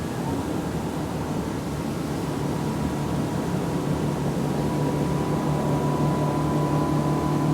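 The outboard motor of a 2025 Axopar 29 Sun Top boat drones steadily and loudly without a break as the boat makes tight turns close by, its engine tone holding constant.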